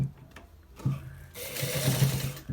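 A sewing machine stitching the end part of a designer shirt: a low mechanical hum that starts, pauses briefly, then runs louder and steady, close by with no talking.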